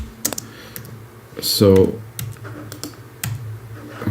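A few scattered keystrokes sound on a computer keyboard set up for musical typing in electronic music production, soft clicks under a brief spoken word and low background hum.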